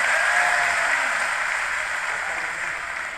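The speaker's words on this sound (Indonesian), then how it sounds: "Boleh tepuk tangan buat PKS" Audience applause at a party anniversary celebration, a dense, steady wash of clapping from a large crowd that holds loud for a few seconds and tapers slightly.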